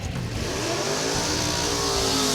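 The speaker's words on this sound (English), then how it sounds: "A rolling burnout right there." Car doing a rolling burnout at a drag event, its engine revving hard in a loud sustained roar with rising pitch and heavy tire noise.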